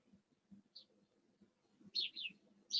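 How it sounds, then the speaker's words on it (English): A sparrow chirps outside a window, a few faint high, short tweets over a quiet background with some low muffled thumps, heard at a distance. "Like that sparrow outside my window."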